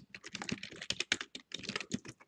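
Rapid typing on a computer keyboard, close and clear, with dense irregular key clicks and a few brief pauses, no talking.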